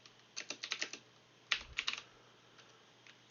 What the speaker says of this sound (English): I'm typing it up